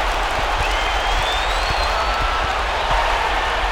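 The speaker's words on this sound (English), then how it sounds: "how about the intensity and focus of the crowd here? So loud in this place." A loud, steady crowd roar fills an NBA basketball video game arena, with a faint rhythmic thumping beneath it and no clear voices on top.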